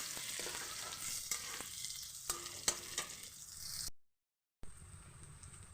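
Onion fries in a hot pan with a bright, constant sizzle, broken by several sharp scraping strokes as it is stirred, then a brief drop-out before the sizzle returns.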